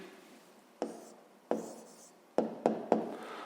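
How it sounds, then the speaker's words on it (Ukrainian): Pen or pencil strokes on paper while writing down a maths answer: five short scratchy taps, the last three close together, near and fairly quiet with no talk. "Записуємо відповідь."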